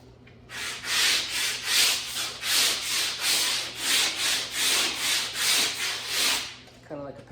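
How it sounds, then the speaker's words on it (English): Body filler on a 1969 Barracuda is sanded by hand with coarse 80-grit paper, about a dozen loud, rhythmic back-and-forth rasping strokes heard close up with no talking. "Sand that with 80, and I'm gonna feather this out with 180 over top here"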